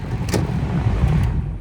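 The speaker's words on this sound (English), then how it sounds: "So the car is started." A 1999 Lincoln's engine idles steadily after starting, a low continuous rumble with a faint click or two over the top, close by and with no talk.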